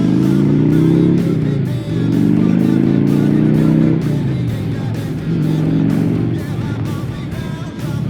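An Indian Chieftain motorcycle accelerates hard through the gears to overtake traffic on Kirkstone Pass in the Lake District, a loud, close engine roar climbing in pitch with short dips at each gear change, under steady wind noise.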